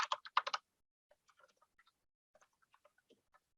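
Someone types on a computer keyboard while entering names into a web app. A quick, close burst of keystrokes is followed by scattered faint, soft taps in a quiet room.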